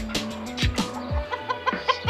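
Pet chickens on a rooftop cluck in short, close, repeated bursts, with several soft calls tumbling one after another in an uneven rhythm.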